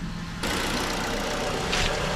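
A 2011 Mazda CX7 with a used replacement engine idles while warming up, a steady close mechanical hum and whir that jumps louder after a brief quieter start, with no voices.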